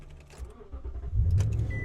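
A 2019 Toyota Tundra with a 5.7-liter V8 and key start cranks and catches, a brief low rumble rising near the end of a short burst, close and alone.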